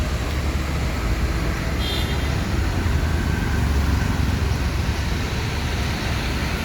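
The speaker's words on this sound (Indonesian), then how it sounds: "Ada masuk lagi ya, bus Padang ini" A Padang intercity bus pulls in among heavy roadway traffic, a constant loud rumble of engines and road noise with a brief horn toot partway through.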